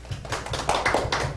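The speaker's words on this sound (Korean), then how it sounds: "박수 한번 합시다." Short burst of audience applause after a spoken remark during a Korean Bible study class, a crowd of hands clapping close together in a dense patter for over a second.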